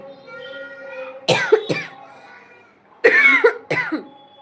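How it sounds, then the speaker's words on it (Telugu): A man coughs in two loud, close bursts, each a quick cluster of harsh hacks, with a low hum of his voice before them. "ఏందో దగ్గు వస్తుందబ్బా"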